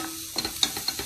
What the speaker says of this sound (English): So it's like little bit sizzling